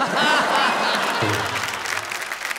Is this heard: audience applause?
yes